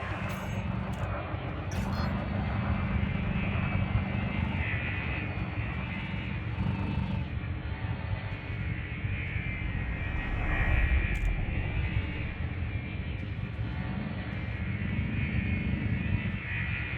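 In the Elite Dangerous video game, a spaceship engine hums as the throttle increases, a steady whine with a low rumble, and a few brief clicks sound near the start and middle.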